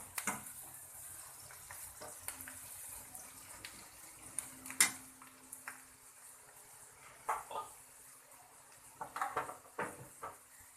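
Spoon stirring rice with turmeric powder in a pan for raw mango rice, giving soft scraping and light clinks of utensil on metal at an uneven pace, with one sharper clank, all faint and close.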